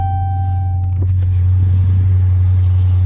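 A 2019 Dodge Challenger Hellcat with Scat Pack graphics idles with a loud, steady deep rumble close by, a brief blip of revving swelling partway through, then settling back into the heavy low drone.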